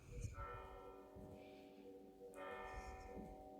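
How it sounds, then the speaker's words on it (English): Church bells ring with sustained, overlapping tones, a fresh strike near the end, over a low background rumble. "Yes, you can hear the church bells here."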